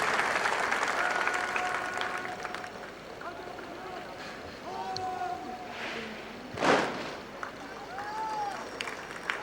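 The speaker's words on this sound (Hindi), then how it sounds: "दर्शकों से अनुरोध है कि तालियों के साथ परेड का मनोबल बढ़ाते रहें" Spectators clap through a military parade at a fauji training centre, a sustained wash of applause beneath a loudspeaker announcer's voice with a brief louder swell midway.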